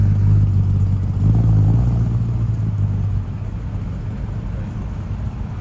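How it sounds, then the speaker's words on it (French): A classic 507 car pulls away on a Paris street, a low engine rumble with a brief rise in revs before settling into a softer, steady drone. "Regardez le départ de la 507 en même temps que nous quasiment."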